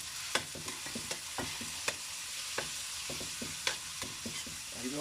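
Meat cooks in a pan, giving a steady frying sizzle. A utensil scrapes and stirs at an irregular rhythm throughout, with sharp clinks against the pan, heard close up with no talk.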